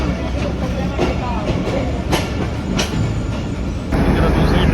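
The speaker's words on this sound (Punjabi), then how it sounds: "ਜਿਹੜਾ ਦੂਸਰੀ ਟ੍ਰੇਨ ਜਾ ਰਹੀ ਹੈ।" Train passing close by at a railway station on the Okara to Lahore line, a continuous loud rumble with rhythmic clacking and a louder swell near the end.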